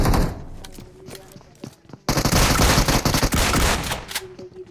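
Bursts of automatic gunfire rattle through a battle royale shooter match, a sparse run of shots giving way to a loud, dense fusillade that dominates the second half.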